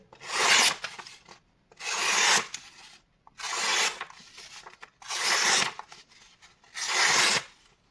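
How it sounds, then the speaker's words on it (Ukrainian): A Ganzo G766-BK folding knife slicing through a sheet of A4 paper, five separate close, raspy cutting strokes evenly spaced, each lasting under a second with quiet gaps between. "Але спочатку перевіримо заводську заточку аркуш паперу А4."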